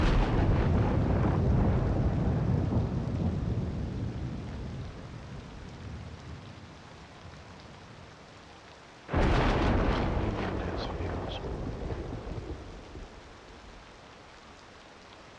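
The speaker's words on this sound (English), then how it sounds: "Looks like we've got a summer thunderstorm going on" Steady rain pours with deep rumbling thunder in a Cities: Skylines II summer thunderstorm, fading gradually, then a sudden loud thunderclap and heavier downpour that slowly dies away again.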